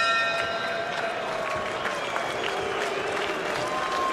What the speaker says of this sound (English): Crowd showing some disapproval.